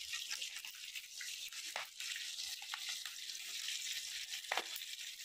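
Chicken legs fry in a pan with a faint, even, high hiss broken by small scattered spits and crackles of splattering oil, heard alone without talk.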